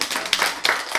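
A church congregation claps during a sermon in a short, loud burst of applause with a few sharp peaks, and faint talk underneath.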